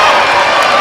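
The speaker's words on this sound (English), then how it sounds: "great to see the crowd getting pumped up like that" Crowd cheering and shouting at a women's college volleyball match, Hope College versus Adrian College, a loud, steady roar of voices filling the gym without a break.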